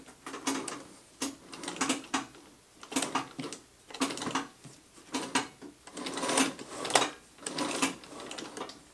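A treadle-driven sewing machine runs in uneven bursts, each spell of rapid mechanical clatter stopping and starting again as the treadle is pumped, close and clear with no talking.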